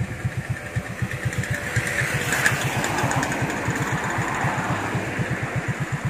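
Sanya AR 50 motorcycle exhaust idling up close, a steady low, fast-pulsing putter that swells slightly in the middle, with no talk over it.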